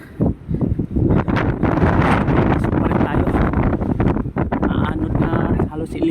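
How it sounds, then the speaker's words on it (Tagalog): Strong wind roars across open, treeless ground in Greenland, a loud continuous rumble with heavy microphone buffeting that persists throughout. "madagundong talaga yung hangin mga guys dito sa Greenland"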